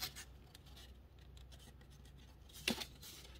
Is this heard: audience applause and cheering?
no